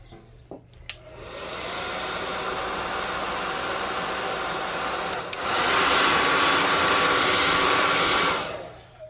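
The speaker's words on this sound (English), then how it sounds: "So let's dry this off real quick." Hair dryer blowing on freshly painted tabletop saloon scatter terrain: a click, then a loud continuous rushing whir that steps up to a higher setting midway before shutting off, alone without talk.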